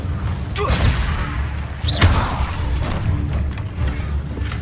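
A Confringo spell blast in the Hogwarts Legacy video game, heard as a loud booming impact with a whooshing burst, one of two or three thuds over a steady game-ambience rumble.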